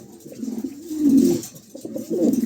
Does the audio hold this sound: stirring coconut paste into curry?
no